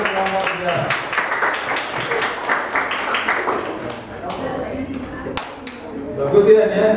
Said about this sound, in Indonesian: Tepuk tangan untuk nomor 3.